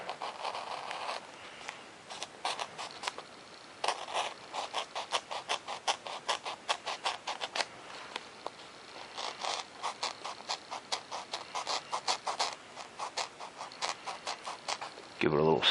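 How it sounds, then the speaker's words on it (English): Rapid scratchy sawing clicks as an X-Acto knife cuts through foam on a model airplane, with dense close strokes running almost continuously and a few brief pauses. "now I'll use my X-Acto knife on where the elevator runs through here."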